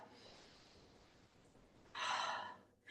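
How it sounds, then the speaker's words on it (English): A single deep breath taken during a chair yoga stretch, a brief, close, airy inhale rising sharply out of quiet room tone, with a second short breath sound right at the end. "Hold it, take a big breath"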